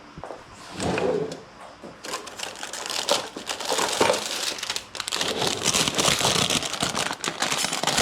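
A freshly sharpened knife slices through parchment paper, which is crumpled close by. Crisp crackling and rustling comes in bursts over several seconds, loud and near.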